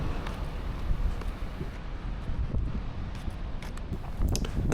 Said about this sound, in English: The wind is absolutely terrible today, so apologies if it's caught on the microphone.